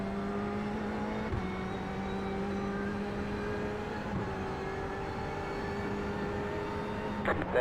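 A Ferrari GTE race car at Watkins Glen drones steadily on track, its engine tone holding and shifting with brief transients, heard from trackside without speech.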